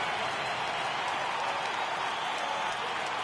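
A crowd in a baseball video game roars steadily at a full count, a continuous, fairly loud wash of cheering and clapping with no break.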